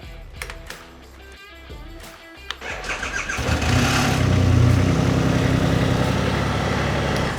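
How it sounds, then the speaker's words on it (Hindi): A Triumph Rocket 3R 2500 cc motorcycle engine cranks with a few sharp clicks, then catches and settles into a loud, deep, rumbling idle close by. "This is the Triumph rocket 3R 2500 cc."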